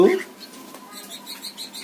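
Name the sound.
cockatiel calling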